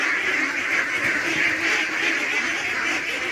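A crowd of ducklings quacks and peeps continuously at close range, a dense, noisy chorus with no pauses.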